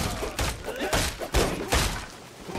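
Blasts go off in LEGO Fortnite: a rapid series of four or five loud booming bursts, each with a short rumbling tail, close and punchy.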